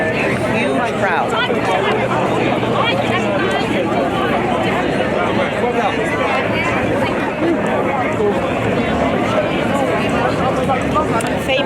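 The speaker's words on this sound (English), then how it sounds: "Huge crowd." A huge protest crowd fills the air with a dense, continuous roar of chatter and hubbub, loud and close throughout with no pauses.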